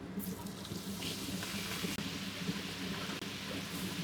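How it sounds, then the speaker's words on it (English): Sauce pours steadily into a pan of melted butter with a sizzle throughout, loud and close, with a couple of brief clicks partway through. "Then pour in the sauce we prepared earlier."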